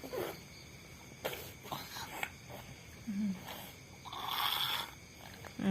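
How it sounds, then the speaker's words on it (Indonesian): A sleeping person snores in a quiet room, giving a few soft, irregular breathy snorts and rasps, faint and close, with a louder snore near the end. "Ngorok lagi."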